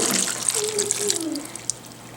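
Chilled simple syrup is poured from a container onto a bowl of fruit salad, making a steady liquid splash with a rising, gurgling pitch for about two seconds at close range.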